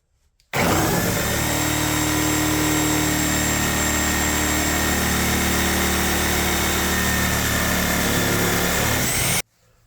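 A reciprocating saw fitted with a Milwaukee carbide blade runs continuously through a cut, a loud, steady, high-pitched motor whine with buzzing that starts abruptly and stops cleanly after about nine seconds.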